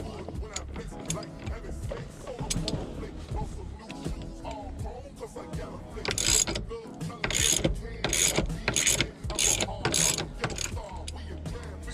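A ratchet wrench loosening the steering wheel nut on a Lexus SC300, giving repeated rapid clicking bursts close up, with someone talking between and over the ratcheting.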